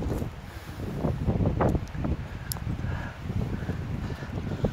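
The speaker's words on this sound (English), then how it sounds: "It's windy." Wind buffets the microphone on a mountain creek hike in rocky country with rock slides, a constant loud roar and rumble that surges and dips with no talk.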